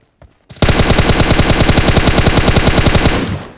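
Rapid automatic gunfire from a PUBG Mobile match, a loud sustained burst of evenly spaced shots lasting about three seconds after a couple of brief clicks, with no talking.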